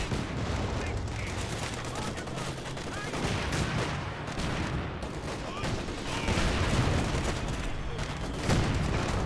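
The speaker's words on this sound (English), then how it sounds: "As soon as they try and run into the middle, getting blasted by these mortars" Mortar shells from Company of Heroes 2 land in a steady barrage of crackling blasts mixed with rattling gunfire, a busy, continuous battle din with several louder impacts toward the end.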